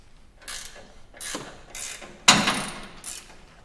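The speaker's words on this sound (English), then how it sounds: "Now we're going to remove the nut from this upper control arm bolt with two 19mm box end wrenches" Two 19mm box end wrenches work the nut off an upper control arm bolt on a Toyota Tacoma, giving about five short, sharp metallic clicks and scrapes spaced roughly half a second apart.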